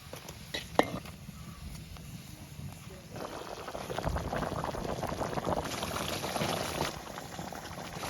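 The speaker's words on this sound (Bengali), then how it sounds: "মৌটা উতলেই গেছে, এখন ভাজা মাছটা দিয়ে দেবো।" Mustard-sauce boal fish curry bubbling in a pan, a steady close simmering rumble that grows fuller and louder after about three seconds, with a brief clatter near the start.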